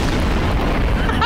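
A heavy explosion booms in Garry's Mod, a loud, deep blast that fills the short moment with a rumbling burst.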